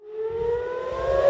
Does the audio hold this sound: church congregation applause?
no